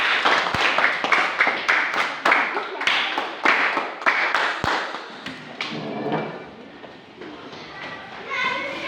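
Schoolchildren in a classroom clap together in rapid bursts, the sharp claps fading after a few seconds into children's chatter and murmuring voices.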